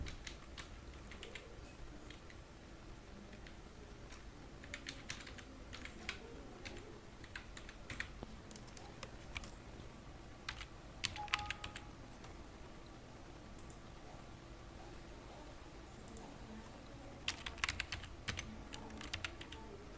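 Steady typing on a computer keyboard while filling out an ECHS card application online, with quiet, close keystrokes and clustered bursts of clicks, no talking.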